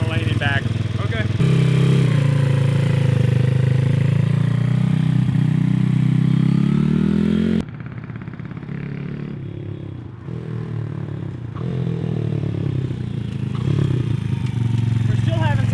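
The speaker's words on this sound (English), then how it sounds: "I heard the engine sputtering." A motorcycle engine with a running fault revs and sputters loudly up close, dropping to a rougher, uneven idle about halfway through before picking up again, with people talking over it.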